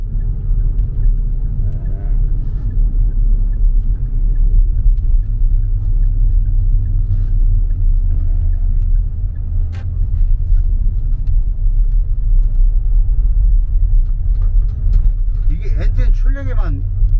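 A SsangYong Tivoli 1.6 turbo pulls away under acceleration, a steady low engine and road rumble filling the cabin with a faint rising whine near the end, and no talking.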